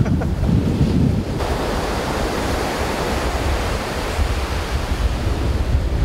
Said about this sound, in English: the waves aren't that bad today. They're pretty small